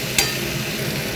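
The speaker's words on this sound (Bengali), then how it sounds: "আর একটু জল দিয়ে মশলাটা ভালো করে কষে নেব।" Spice paste for chicken kosha frying in a pan with a little water, a steady close sizzle and a single sharp scrape of a spoon near the start.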